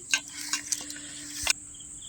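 Korameenu fish pieces being mixed with chili powder in a bowl, giving a few quick, close wet clicks and scrapes in a short burst.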